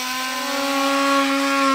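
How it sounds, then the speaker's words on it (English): An oscillating multi-tool trims out a plastic rock guard on a 2022 vehicle during a base plate installation, a close, steady buzzing whine that holds without a break. "And as far as trimming the rest of it out, I'm gonna use a multi-tool"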